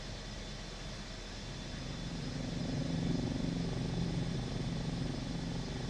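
A helicopter in Microsoft Flight Simulator 2024 drones with a continuous low rotor and engine hum, steady and moderately faint, gradually swelling slightly with no speech over it.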